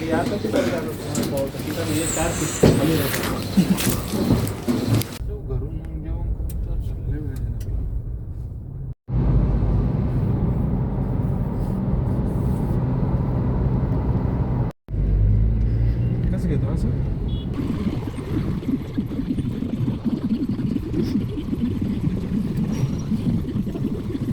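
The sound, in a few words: car driving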